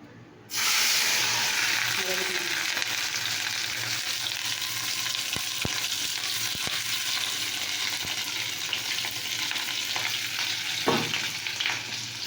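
Fish roe and fish oil hit a hot wok with a sudden loud sizzle that holds steady and hissing, broken by occasional small clicks and pops.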